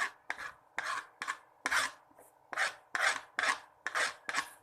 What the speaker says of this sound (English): Mix it well so that the onion dosa topping will be ready.